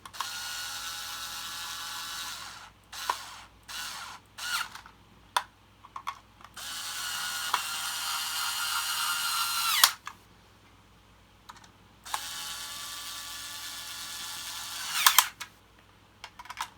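Four screws being tightened to reassemble the motor of a Hoover Turbopower 1 vacuum cleaner, heard as close, steady bursts of ratcheting driver clicks broken by short pauses, with no talking.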